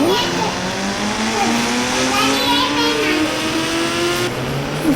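A Kawasaki ZX-10R motorbike in the Indian Bike Driving 3D video game rides up a bridge with a loud, steady, high-revving engine drone whose pitch climbs gradually throughout.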